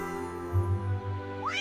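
A cartoon cat meowing in a Kazakh folk tale, a single drawn-out, close, whining meow over soft background music.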